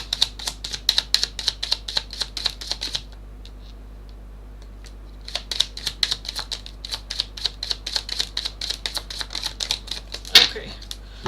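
Tarot cards are shuffled in quick crisp bursts of rapid riffling clicks, one run, then a pause, then a second longer run ending in a sharper snap, with brief speech heard.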